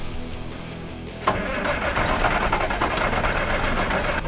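Perkins six-cylinder diesel on a Massey 860 combine, its fuel system just primed, turns over quietly and then abruptly fires into a loud, rough, steady running roar close by.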